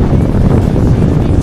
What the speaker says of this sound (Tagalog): grabe lakas ng hangin